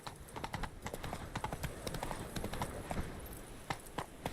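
Roach, Geralt's horse in The Witcher 3 game, gallops with a quick, steady clip-clop of hooves that stays close and even throughout, with no voices.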